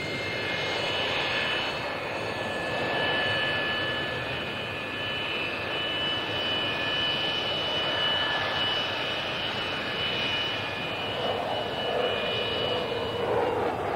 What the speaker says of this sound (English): This is the massive 8-engine YB-49.